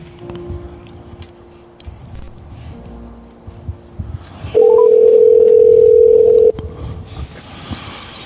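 A steady telephone dial tone rings out on a T-Mobile phone, loud and unbroken for about two seconds, following a quieter stretch of faint room noise and small clicks.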